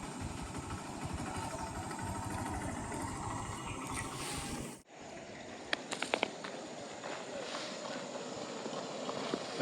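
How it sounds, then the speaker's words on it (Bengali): A motorcycle moves along a rough, broken village road in rural Ghatal, its engine a steady low drone that breaks off midway and then returns with a few sharp rattling bumps. "একটা মোটর সাইকেল আসছে কিভাবে দেখুন"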